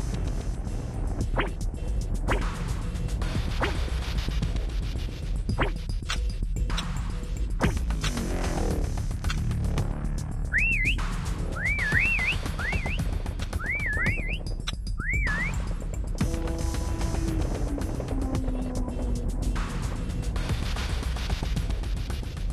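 A rising two-tone whistle in a Call of Duty prop hunt match repeats about five times in quick succession, set against steady game ambience and scattered impacts.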